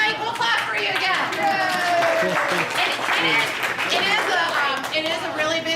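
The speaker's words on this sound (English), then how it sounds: "Oh, hey, Mike, we'll clap for you again." Audience at a high school soccer awards event clapping for an award recipient, a busy mix of claps mingled with chatter, laughter and children's voices, steady throughout.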